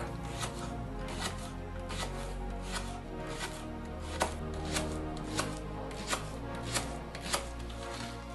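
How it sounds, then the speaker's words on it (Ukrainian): A kitchen knife slices through the white part of a leek on a board while making Polish goulash soup, a series of crisp, evenly spaced cuts under steady background music. "То беру білу часть пора і режу його так."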